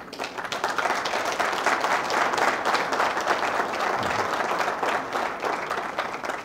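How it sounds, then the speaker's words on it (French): Sustained applause from an audience filling a hall, dense steady clapping holding at an even level throughout with no speech over it. "Je vous prie de vous lever pour que la salle vous acclame."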